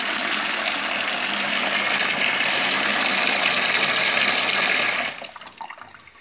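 Tap water running strongly from a mixer valve after its filter disc was scraped clean of crud, a steady loud rushing gush that cuts off abruptly near the end, leaving quiet drips.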